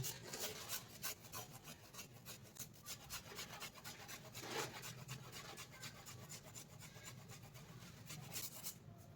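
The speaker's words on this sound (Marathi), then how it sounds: "थोडंसं आलं किसून घालू" Fresh ginger grated for dhokla batter, a quick, steady rasping scrape repeated in a fast rhythm, close but soft, with no one speaking.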